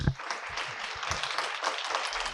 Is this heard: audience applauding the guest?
yes